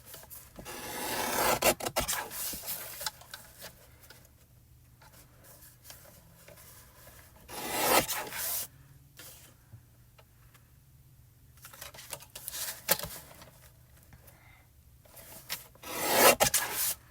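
Cardstock being cut down to size for a card front, giving several bursts of close scraping, rasping cuts separated by quiet pauses.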